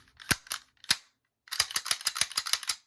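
Handgun slide released and dry-fired to test function after field-strip reassembly: a few sharp metallic clacks, then a rapid run of about ten crisp clicks, close and alone.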